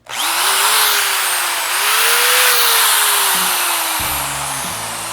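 A corded single-speed drill whines loudly and steadily for several seconds, its motor pitch dipping and rising slightly before a brief stutter near the end.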